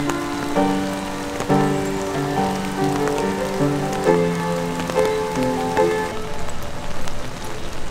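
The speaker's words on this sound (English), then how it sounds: "It's rainy today" Rain falling outside in autumn, a steady patter under a sustained tonal, musical-sounding background that plays throughout.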